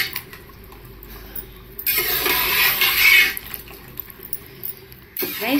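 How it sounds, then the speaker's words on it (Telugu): A glass of water splashes into a pan of chole masala curry in one loud, close pour lasting about a second, set between quieter kitchen clatter and a brief rustle at the end. "గైస్ 1 గ్లాస్ వాటర్ వేసుకున్నాం."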